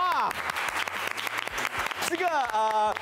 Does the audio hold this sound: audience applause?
yes